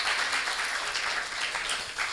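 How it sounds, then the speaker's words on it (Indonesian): Audience applause at a guest lecture, a dense, even wash of many hands clapping continuously throughout, moderately loud and without any voices over it. "Tepuk tangannya yang meriah"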